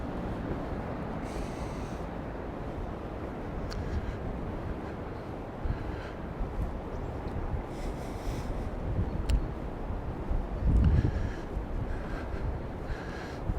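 Wind roars and buffets the microphone in a steady low rumble on a cold day at Peguera, Mallorca, with gusts swelling louder now and then; no voices.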